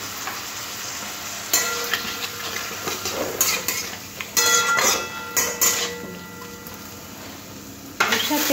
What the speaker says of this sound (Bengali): লঙ্কার গুঁড়ো, ধনের গুঁড়ো, আর একটু জল দিয়ে ভালো করে এটা সবজির সাথে কষে নেব